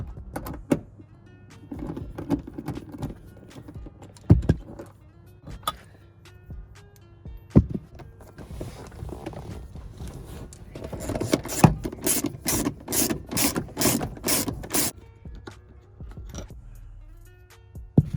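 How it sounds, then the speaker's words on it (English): A ratchet or hand tool works at the bolts holding Recaro seats inside a Vauxhall Corsa. Close metallic clicks and scrapes come in uneven bursts, ending in a dense run of rapid ratcheting ticks. "there's a bolt to unscrew to take these seats off"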